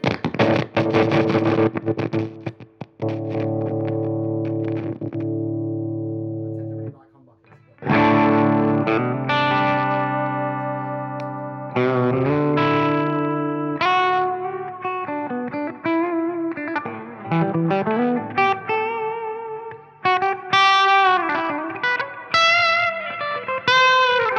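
An electric guitar with humbucker pickups plays strummed chords and then single-note lines, clean but with some effect coloring, ringing out steadily without any talking.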